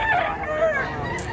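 Roosters crowing at a crowded gamefarm in Mantalungon, Cebu, with a drawn-out crow rising and falling over a dense backdrop of other fowl and farm noise.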